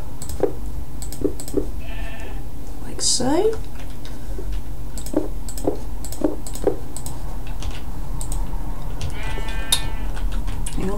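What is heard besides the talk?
sheep bleating in Minecraft video game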